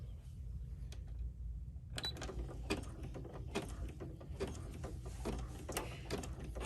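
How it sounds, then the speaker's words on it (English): Embroidery machine stitching the outline of a key fob, a close rapid mechanical chatter of needle strokes with rhythmic clicking and a constant motor hum, no voices. "After it's done stitching around here, then it's going to stitch the holes up at the top"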